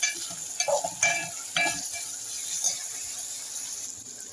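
Onions softening in a hot pan for a bean and tomato curry, with a steady broadband sizzle and a few scraping stirs near the start, close and moderately loud, no voices.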